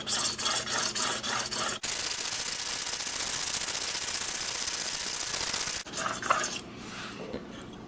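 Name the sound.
sharpening Muzzy trocar broadhead on grit plate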